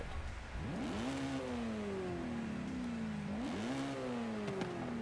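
A car engine in the racing game Forza Horizon 5 revs loudly and continuously, pitch climbing through rising sweeps, dipping and surging again as it accelerates, with no talk over it.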